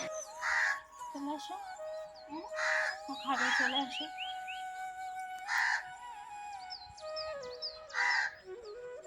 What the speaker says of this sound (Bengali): আর কাকটা দেখো কেমন ডাকছে